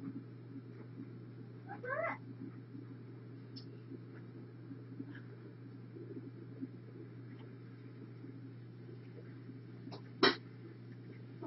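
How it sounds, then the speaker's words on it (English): Cats in a room give a few faint, scattered meows over a steady low hum, with one louder, sharper cry near the end and no talk. "There's about 8 cats in here."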